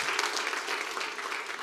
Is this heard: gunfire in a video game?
no